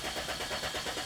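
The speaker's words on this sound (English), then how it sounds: "So now I'm going to start the engine." A Toyota Corolla engine cranking on a start attempt, a quick rhythmic starter whir with regular pulses, steady and fairly faint throughout the short stretch without catching.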